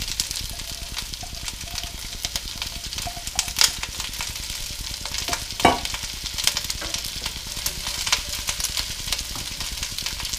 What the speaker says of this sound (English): I'm going to add the onions and saute them